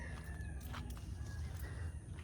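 Faint clucking of a chicken near a coop in a Philippine cornfield farm, soft intermittent calls over low rustling background, quiet and distant.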